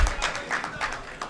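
Audience at a mushaira poetry gathering clapping to welcome a poet, a short burst of distinct, rhythmic handclaps in a hall, moderately close with little else beneath.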